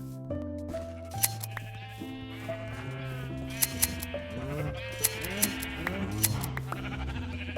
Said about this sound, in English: the sheep need to be shorn.